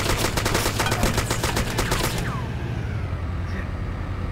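Rapid automatic gunfire in the video game Arma II, a loud close burst of evenly spaced shots that stops abruptly, leaving a quieter fading tail.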